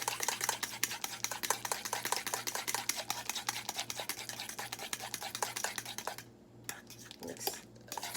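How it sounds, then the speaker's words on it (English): A spoon scrapes and clinks steadily around a bowl while banana waffle batter is stirred, a close, continuous rhythmic tapping and swishing with a brief pause near the end. "so I'm just going to go ahead and mix this around"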